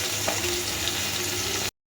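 A single large fish fries in oil in a small wok, a continuous dense sizzle close up, cut off abruptly at the end.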